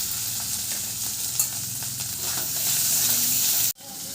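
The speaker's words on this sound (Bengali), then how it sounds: "টমেটো আদা ভালো করে ভেজে নিয়েছি" Tomato and ginger fry in hot oil, giving a steady close sizzle with faint stirring, which cuts off abruptly near the end.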